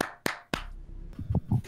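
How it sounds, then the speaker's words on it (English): Three sharp, separate hand claps ring out close and loud within about half a second, each with a brief echo tail, followed by a short murmur of a voice. "I will clap though"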